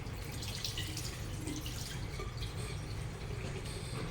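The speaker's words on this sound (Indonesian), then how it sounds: "Nyalakan keran." Tap water runs steadily from a turned-on faucet for hand washing in a newborn nursery, a continuous hiss and splash with faint drips, fairly quiet and with no voices.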